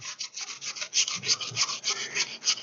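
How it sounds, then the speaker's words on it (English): A potato is being grated for latkes, its steady back-and-forth rasp against the grater repeating in a quick, even rhythm close to the mic, with no talking. "I'm going to go ahead and grate a little bit more of it while we're going"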